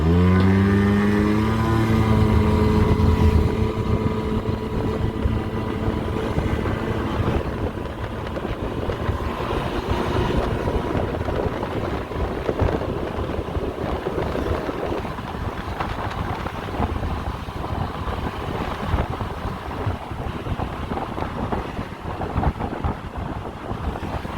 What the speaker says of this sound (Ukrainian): Ямаха їде приємно, набирає класно